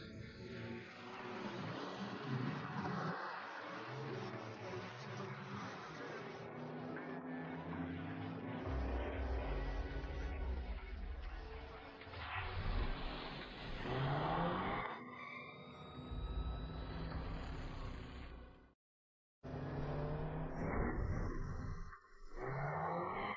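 A sports car drives along, its engine and road noise rumbling steadily with rising revs and a few scraping, skidding bursts, then a brief cutout before the drive continues.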